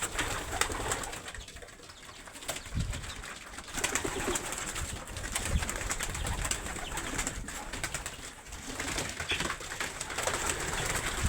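Racing pigeons coo steadily and overlapping in an enclosed loft, soft throaty calls repeating throughout with a constant background hum and rustling.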